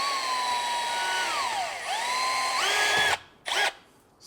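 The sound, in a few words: drill drilling small hole in BMW E46 M3 differential seal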